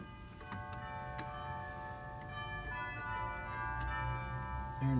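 Chimes stop on an Austin pipe organ struck several times, bright bell-like strikes ringing over a sustained organ background, moderately quiet with no voices.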